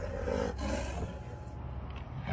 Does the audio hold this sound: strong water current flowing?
no